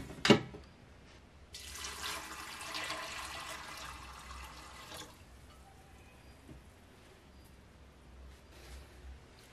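Water pours steadily into a pot of beans for a few seconds after a sharp knock, then the stream stops and only faint kitchen noise remains.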